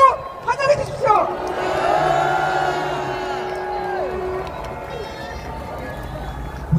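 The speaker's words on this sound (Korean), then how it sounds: "박수로 환영해 주십시오" Outdoor rally crowd at a plaza cheering and shouting to welcome performers, loud sustained whoops and voices with a tonal, droning edge, rising early then holding steady before tapering.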